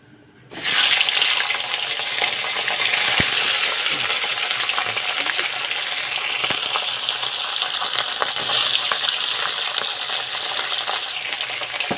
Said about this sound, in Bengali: বাকি থাকা মাছগুলোকে এখন এই তেলের মধ্যে দিয়ে দেবো